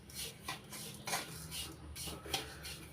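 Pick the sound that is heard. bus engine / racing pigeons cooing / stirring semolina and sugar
stirring semolina and sugar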